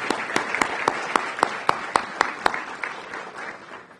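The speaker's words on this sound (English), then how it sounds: "that deserves a round of applause." A room applauds at a bill signing ceremony for the SYEP expansion. Dense clapping is steady, with a few sharp, loud individual claps standing out in a regular rhythm, and it tapers off toward the end.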